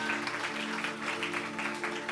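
Applause from a church congregation, a steady dense wash of clapping that fills the whole stretch at moderate loudness, with no voices standing out.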